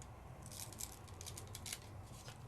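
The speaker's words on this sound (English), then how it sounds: "Peel it off." Backing being peeled off a sheet of foil for no-heat foiling in scrapbooking, a quiet, close crackly rustling that runs steadily for a couple of seconds with no talk.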